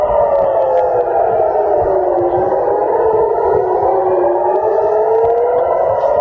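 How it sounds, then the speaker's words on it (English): Civil defense air raid sirens wail over Jerusalem near the Dome of the Rock. Several overlapping tones rise and fall slowly, loud and sustained with no pauses. "that's what air raid sirens sound like if you're within camera distance of the Dome of the Rock"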